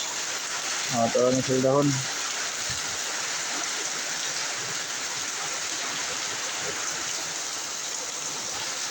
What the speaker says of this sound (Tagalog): Dari ka banha karon no kay kusog sa ulan.